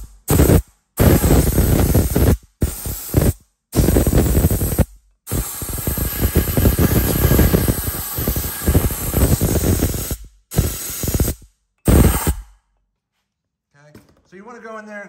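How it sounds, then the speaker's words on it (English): Loud bursts of compressed air blast dirt off the CVT case of a 2019 Kawasaki Brute Force, several short hissing sprays followed by a long continuous blast, with brief pauses between and a voice at the end. "just take some kind of compressed air if you can"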